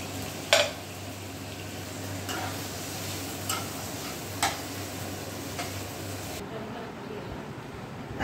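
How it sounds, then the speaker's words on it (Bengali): Garlic and green chillies fry lightly in a pan alongside prawns, a gentle, steady sizzle with a few sharp utensil clicks and a low hum that cuts out near the end. "রসুন আর কাঁচা লঙ্কাগুলো হালকা ভাজা হয়ে গেছে।"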